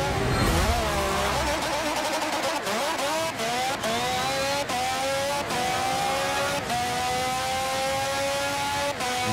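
A Nissan GT-R and a Formula One car accelerate down a one-mile drag strip in Forza Motorsport 7, engines roaring loud and close with a rising whine broken by repeated sharp gear shifts, no talk.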